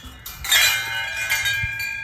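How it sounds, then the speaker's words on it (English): Wind chimes hung by a makeshift gate for home security jingle as it opens, sustained overlapping metallic tones swelling and fading. "Not that I like the wind chimes"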